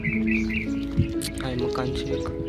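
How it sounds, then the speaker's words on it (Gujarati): Birds chirp and twitter near farm fields under a banyan tree, with bright repeated calls at the start, while someone talks over them close by. "પક્ષીઓનો અવાજ કલરવ સાથે"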